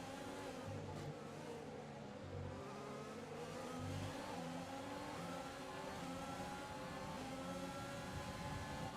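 Race cars in F1 2020 roaring and accelerating at a green flag restart, a steady rising engine drone with several cars revving together, fairly faint and continuous.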